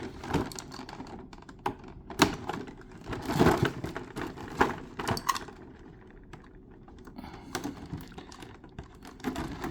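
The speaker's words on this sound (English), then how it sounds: "let's go ahead and separate the blisters. Because obviously they are taped together." Taped plastic blister packs holding a swimsuit figure are pulled apart, giving close, irregular crinkles, clicks and tape tearing of moderate loudness with no talking.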